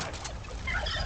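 A turkey in a video game gives a short, quiet gobbling burst, fluttery and bird-like, heard alone without talk.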